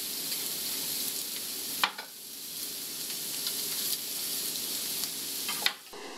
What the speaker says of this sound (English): while the veggies are sauteing